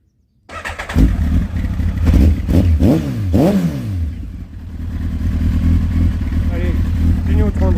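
A broken motorcycle that fails roadworthiness inspection cranks and fires up close by, revving in several rising and falling bursts before settling into a loud, rough, steady idle.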